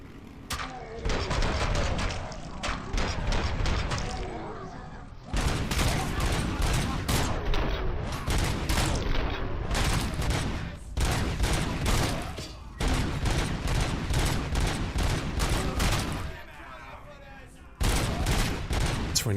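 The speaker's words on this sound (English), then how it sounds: "now it's sort of devolved into a running gun battle" Gunfire in the video game Robocop: Rogue City comes as dense, rapid bursts of loud shots through a running gun battle, broken by short pauses, with a voice talking over it at times.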